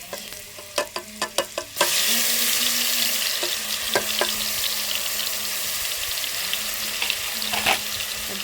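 Garlic dropped into hot desi oil for a garlic-ginger curry, a few clicks of the spoon then a sudden loud, steady crackling sizzle that holds on, with occasional stirring knocks against the pan.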